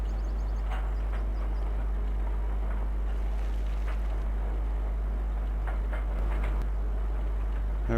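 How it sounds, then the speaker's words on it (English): Tractor engine in Farming Simulator 17 straining as it climbs a hill, a steady low droning hum held at an even level throughout, with faint clicks and ticks over it and no talk. "Tractor struggling a little up the hill"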